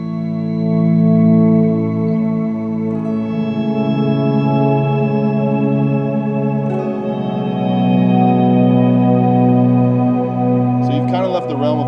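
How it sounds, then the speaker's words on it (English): Swelling electric guitar chords run through analog, digital and tape delays, two reverbs and an octave pedal, sustaining as a smooth ambient wash with slow volume swells, played alone and fairly loud. "An analog delay, a digital delay, a tape delay, and 2 reverbs, and an octave pedal, and it sounds like this."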